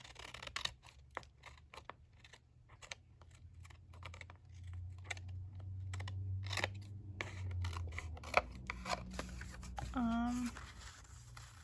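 Scissors snip through paper for a small 3x5 mini notebook insert, a series of short crisp cuts close by, with a quiet voice speaking briefly near the end.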